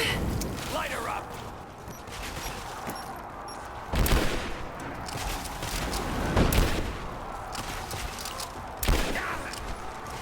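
Tomb Raider gunfire: scattered shots and bursts crack through a busy battle soundscape, with several sharp louder blasts standing out over continuous combat noise and shouted voices.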